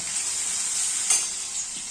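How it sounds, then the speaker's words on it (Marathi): Spices fry in hot oil for a tempering in a pan, giving a steady, bright, close sizzle with a sharper crackling burst midway and no talking. "छान मसाले तेलात फ्राय होऊ देऊया"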